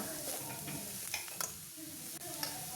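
Spoon stirring a momo filling mixture in a bowl after pepper powder goes in, a soft, close scraping and shuffling with a few light clinks, quiet and continuous.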